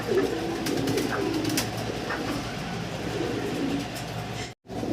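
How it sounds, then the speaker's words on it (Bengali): Lahori pigeons coo softly in low, repeated calls over a steady background hum, with a brief dropout near the end. "লাহোরি কবুতর"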